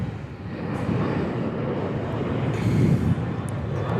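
A Virgin airliner rolls along the runway at Perth Airport, a steady broad engine rumble and roar heard from a distance, building slightly toward the end, with no speech.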